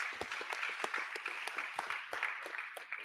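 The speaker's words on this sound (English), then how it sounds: "Let's give him a round of applause." Scattered applause from an audience for a speaker at a tech meetup, fairly faint and distant, with individual claps standing out in an uneven rhythm over a steady wash of clapping.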